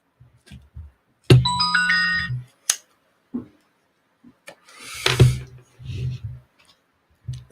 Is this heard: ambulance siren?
no